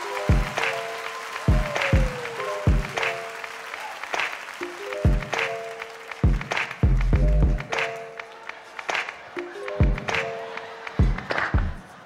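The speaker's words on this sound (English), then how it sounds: "Give him a round of applause" Studio audience applause and cheering greet a comedian coming on stage at a Bad Boys of Comedy stand-up show in Brooklyn, loud and continuous under a thumping hip-hop music bed with steady beats.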